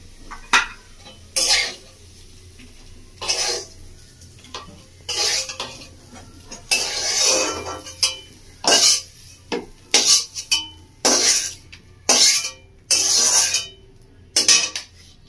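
Spiced egg pakoras are scraped and lifted from a pan onto a plate, with a run of sharp metal spoon clinks and scrapes against the cookware, spaced irregularly and close.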